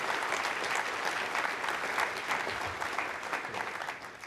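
An audience at an Ariane 5 launch, flight VA208 carrying Intelsat 20 and Hylas 2, applauds warmly, a dense, steady wash of many hands clapping that carries on without a break.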